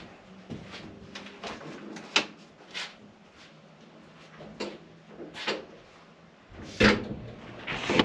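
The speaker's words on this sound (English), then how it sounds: "Shut the door up." The side door of a 6x10 TrailerPlus cargo trailer is shut, giving several separate knocks and thumps, close and moderately loud, with a heavier bang near the end.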